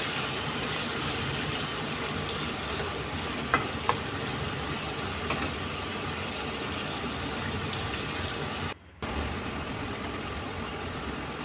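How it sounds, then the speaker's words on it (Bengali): Pumpkin pieces frying in a pan, a continuous close sizzle with occasional light stirring clicks and scrapes, no voices, and a brief dropout near the end. "তারপর মিষ্টি কুমড়োগুলো দিয়ে দিলাম, দিয়ে সামান্য নেড়ে চেড়ে নিলাম।"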